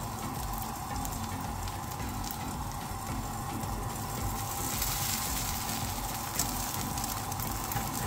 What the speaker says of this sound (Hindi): गैस मैंने फुल रखा हुआ है, फुल हीट पे बना रही हूँ मैं इसको